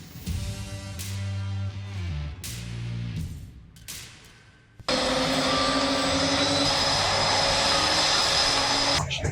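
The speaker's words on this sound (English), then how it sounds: "flying Blue Angel number 6, the Pikes Peak Solo from Baltimore, Maryland, Commander Thomas." A Blue Angels jet, solo number 6, flying at the 2024 Pikes Peak Regional Air Show: after quieter, uneven engine noise, a loud, close roar bursts in and holds steady to the end.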